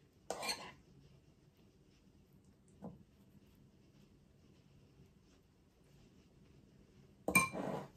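Hummus spooned onto a falafel plate: a short scraping clink of a spoon on the dish at the start, a faint tap midway, and a brighter metallic scrape near the end, with quiet gaps between and no talking.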